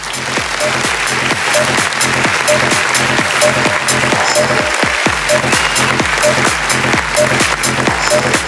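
Loud, sustained applause from a large audience at a women's empowerment award event, dense clapping filling the whole stretch without pause.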